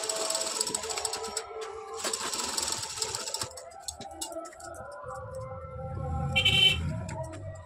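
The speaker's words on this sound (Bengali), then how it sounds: "1/2 ইঞ্চি ছেড়ে ছেড়ে সেলাইটা করে নিচ্ছি পেপার পেস্টিংয়ের উপর দিয়ে" A sewing machine runs stitch lines along a blouse sleeve laid over pasted paper, its rapid mechanical chatter coming in close bursts with brief pauses and a lower motor whir toward the end.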